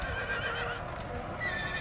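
Horses whinny and neigh during a mass cavalry charge in the game Napoleon Total War, loud shrill calls layered over a constant low rumble of hooves and battle noise.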